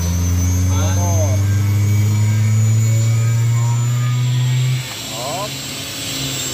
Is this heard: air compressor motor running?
yes